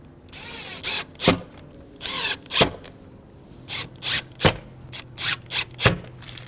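A power drill drives screws into a Subaru trim piece, giving repeated short whirring bursts with ratcheting clicks, close and fairly loud, separated by brief pauses.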